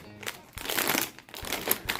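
Plastic chili and seasoning sachets from a pack of instant noodles crinkle and crackle up close, in several short, irregular bursts with brief pauses between them.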